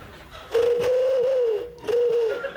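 A person whistles a soft, wavering cooing call imitating a wood pigeon, two phrases with a brief pause between them, close and fairly loud.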